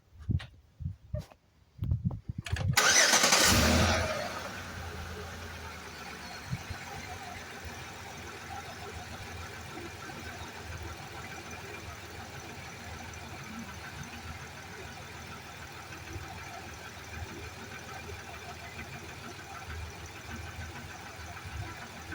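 A car engine idles steadily after an oil change, with 4.9 quarts of oil in the motor, following a loud burst as it starts; the even running hum continues throughout.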